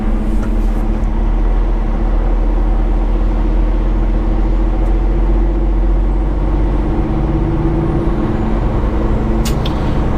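A 2018 Peterbilt 389 with an 18-speed transmission pulls away in third gear. Its engine gives a loud, steady, low rumble close by, with no pause, and a faint hiss sounds near the end.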